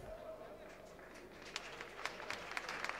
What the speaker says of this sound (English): It's Chris Holroyd that comes off to applause from those Wrexham supporters